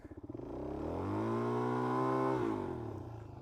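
A 2017 Suzuki DR-Z400SM motorcycle stuck in mud revs hard and holds a high, strained pitch for a couple of seconds before dropping off, close and loud, with no voices.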